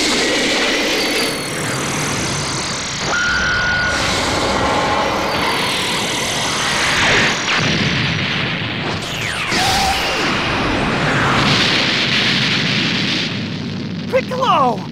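A Supreme Cannon attack blast in the Dragon Ball Xenoverse 2 video game, heard as loud roaring, crackling energy bursts with sweeping whooshes layered over sustained rumble for around fifteen seconds.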